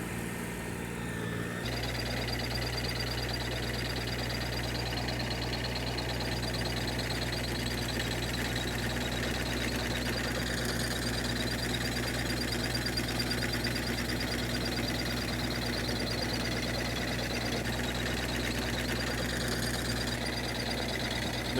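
A small tractor runs a potato digger off the PTO shaft, its cam action shaking the whole implement; a steady engine drone with continuous rattling vibration carries on evenly throughout, close by, with no talking.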